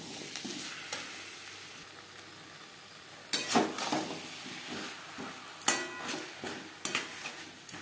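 Small tomatoes, seven or eight of them, go into a hot pan and fry, giving a low steady sizzle broken by several sharp stirring and clattering bursts from the pan and utensils.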